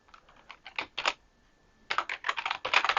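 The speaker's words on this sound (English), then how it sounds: "So now let's type in Java C" Quick bursts of clacking keystrokes on a computer keyboard in a Windows setup, a short run of taps, a pause of near silence, then a faster second flurry, close and fairly quiet with no speech.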